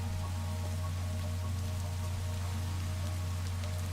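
Rain falls steadily in Minecraft, a constant even patter of drops with a low hum beneath and no pauses or talk.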